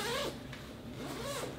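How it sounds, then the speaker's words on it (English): A zipper is drawn along a fabric cornhole board carrying bag with dual zippers, two quick rasping pulls close by, with no talking. "So you could zip it from one end to the other"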